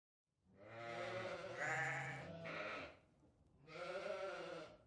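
Sheep bleat in two wavering calls with a short gap between them, close and clear against a quiet background, in a staged Christmas nativity scene.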